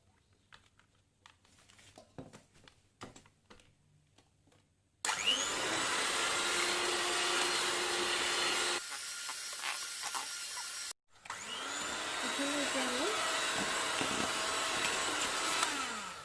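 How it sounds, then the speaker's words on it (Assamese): An electric whisk beats eggless chocolate cake batter. Light clattering comes first, then a loud, close buzzing motor runs in two long bursts separated by a brief stop, with its pitch dipping and wavering as it churns. "এতিয়া আমি হুইস্ক কৰি লম গুটেখিনি"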